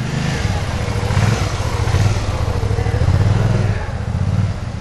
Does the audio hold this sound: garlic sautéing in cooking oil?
no